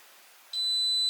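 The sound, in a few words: electric cooking hob beeping with error H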